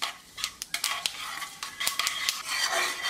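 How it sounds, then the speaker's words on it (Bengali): Half a teaspoon of whole cumin seeds lightly frying in hot oil, close crackling and sharp intermittent spatters with a few utensil clicks against the pan, no voices. "এই জিরাগুলো আমি হালকা একটু ভেজে নিচ্ছি।"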